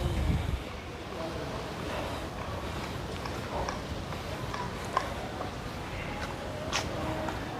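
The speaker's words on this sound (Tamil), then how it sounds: "காற்று பாருங்கள்" Wind gusting around a new house for sale in a residential area of Madurai, a steady broadband rush with mic buffeting that stays near and fairly loud, with faint voices in the background.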